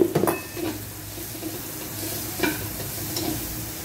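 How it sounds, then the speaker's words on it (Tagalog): Ginger, onion and garlic sauté in a pan with a soft steady sizzle, broken by a few scraping stirs and light clinks of the utensil. "Igisa na natin yung luya at saka yung ating sibuyas bawang."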